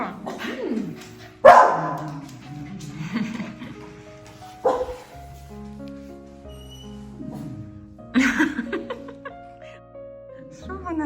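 Dogs bark in several sharp bursts, loud and close, with laughter and talk around them over a tonal background.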